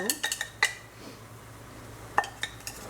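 Pasta being mixed in a pan with ground sesame seeds, giving several sharp clinks and scrapes of a utensil against the pan early on, a quiet stretch, then a few more knocks near the end.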